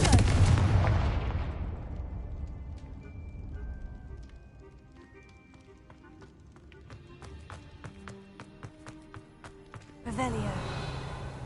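A Confringo blasting spell goes off in Hogwarts Legacy on PS5 with a loud, booming explosion that decays over a couple of seconds. Scattered sharp taps and impacts follow, then a second rumbling burst near the end.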